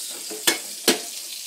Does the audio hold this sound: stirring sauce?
yes